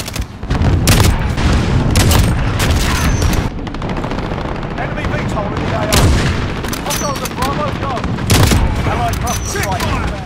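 Loud bursts of AX-50 sniper rifle fire crack in a Call of Duty style shooter match, several sharp reports spaced across the stretch over constant game noise, with a player talking throughout.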